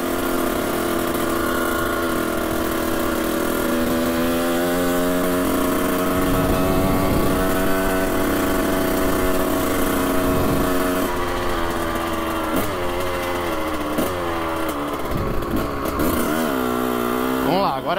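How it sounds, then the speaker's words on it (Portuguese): A Honda CR 125 dirt motorcycle rides on a street, its two-stroke engine droning loudly and steadily with rising and falling revs and some gear changes throughout, close to the listener. "É uma moto feita pra pista, né?"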